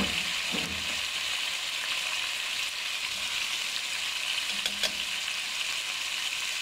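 Chicken frying in a pan for desi-style noodles makes a continuous hiss and sizzle, with a couple of brief stirring knocks around the beginning and near the end.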